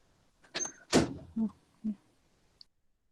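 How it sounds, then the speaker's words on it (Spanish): A door shuts indoors during an online class: a few short thuds and a clunk in under two seconds, followed by a tiny click, with no talking over them. "Cierra la puerta."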